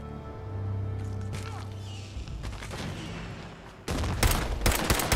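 Gunfire in the Fallout 4 video game during a fight with mirelurks, building from muffled rumbling into a few sharp loud shots and bursts near the end.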